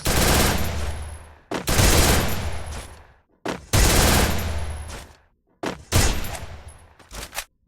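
Rapid automatic gunfire in the Free Fire video game, loud close bursts of a second or more separated by brief pauses, then shorter clipped bursts at the end.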